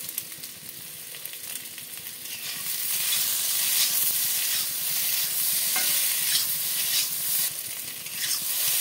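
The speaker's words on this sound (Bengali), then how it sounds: "আলুটাকে ভালো করে নাড়তে হবে কারি পাতা আর জিরের সাথে।" Boiled potatoes tossed with curry leaves, cumin and fried coconut in a pan, a steady close sizzle and scraping stir that grows louder partway through, with no talking.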